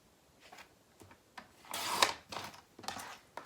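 Paper being trimmed at the edges of a printed PDF sewing pattern sheet, with soft scrapes and rustles scattered through the clip and a louder cutting swish in the middle, heard close up with no talk.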